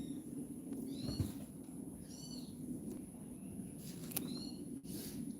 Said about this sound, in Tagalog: Naririnig yung mga kuting.